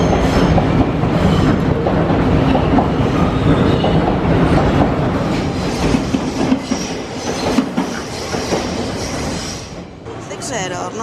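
A tram in Athens rolls along with a steady loud rumble and clickety-clack of wheels on rails, occasional squeals near the end, and people talking inside the car.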